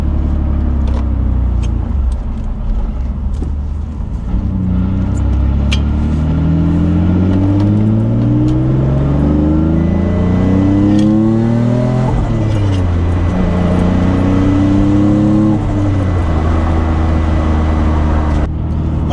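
A boosted Nissan 350Z accelerates hard on a night drive, heard close from inside the car. The engine climbs in pitch through repeated gear pulls, with a brief dip at each shift, and it stays loud throughout.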